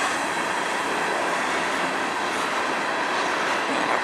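A slow freight train rolls past close by on the Strathroy line, with a continuous loud rumble and rail noise over the whole stretch and no pauses.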